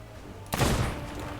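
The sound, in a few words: gunfire from skeletons in a video game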